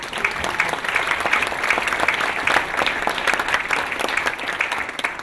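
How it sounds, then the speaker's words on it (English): Audience applause at a medical ethics colloquy, a sustained wash of clapping from a sizable crowd, even and fairly loud from start to finish. "And let's give everyone a round of applause."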